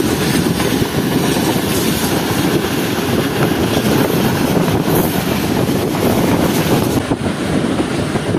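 Shah Hussain Express train rolling into Sheikhupura Junction station, a continuous loud rumble with wind roar and rattling carriages, heard from on board without voices.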